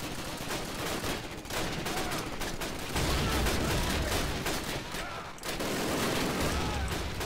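Enemy gunfire in the World War II shooter Call of Duty: United Offensive, dense overlapping shots and bursts filling the whole stretch with a brief dip near the end, loud and continuous with no talk.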